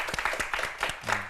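A studio audience claps briefly after a lecture on management books, a short burst of applause with a few distinct hand claps that fades out after about a second.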